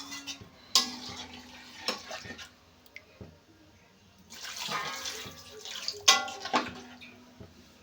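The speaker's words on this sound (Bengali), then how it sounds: "আর একটু জল দেব, কারণ আলু আর কচুটা তো সিদ্ধ হবে।" Water poured into a pot of potatoes and taro during fish curry cooking, bursts of splashing and pouring with clinks of metal between them, close and fairly quiet, no talking.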